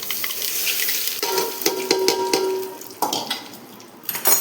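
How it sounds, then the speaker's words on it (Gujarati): Hot oil tempered with mustard seeds, cumin and sesame is poured over khatiya dhokla. It gives a close hiss and sizzle, broken by a few sharp metallic clinks of utensils. "આપણે ઢોકળામાં વઘાર કરી નાખીએ"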